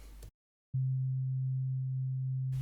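After a brief burst of noise and a moment of silence, a pure, steady low sine-like tone from the Copperhead synthesizer app hums evenly for about two seconds before noise returns.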